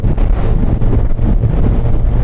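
Heavy, steady wind roar buffets the microphone while riding a Hayabusa motorcycle at speed, loud and continuous with low rumbling gusts throughout and no speech.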